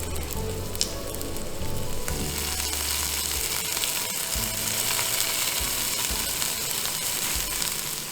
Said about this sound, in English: I'm searing the meat in 2 batches, making sure it's beautifully browned on all sides.